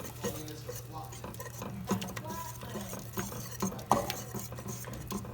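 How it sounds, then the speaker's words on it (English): A whisk taps and scrapes around a pot of cheese sauce for mac and cheese in quick irregular strokes, with occasional clinks of metal against cookware. "We're going to whisk until the sauce is shiny."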